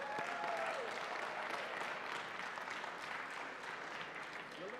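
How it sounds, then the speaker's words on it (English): A conference audience at an iGaming event in Valletta claps for the streamers, a steady, moderately distant wash of applause lasting several seconds, with faint voices mixed in. "could we have a round of applause for our streamers?"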